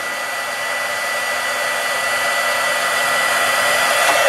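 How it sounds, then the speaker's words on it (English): A craft heat tool for stamping blows a loud, steady, close whoosh with a constant motor whine as it heats up. No talk is heard over it. "we're gonna heat up our heat tool"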